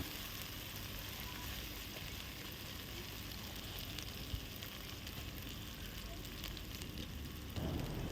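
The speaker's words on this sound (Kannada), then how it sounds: "ಈಗ ಇದೆಲ್ಲ ಹಸಿ ವಾಸನೆ ಹೋಗಿ ಚೆನ್ನಾಗಿ ಫ್ರೈ ಆಗಿದೆ" Cauliflower frying in a pan gives a faint, steady sizzle and crackle throughout, with a slight shift in tone near the end as it is mixed; quiet, with no talk.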